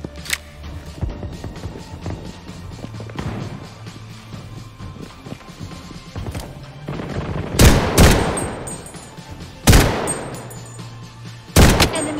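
Gunfire in the mobile shooter game Blood Strike: scattered rapid shots and bursts through most of the stretch, then three loud, close volleys spaced about two seconds apart near the end.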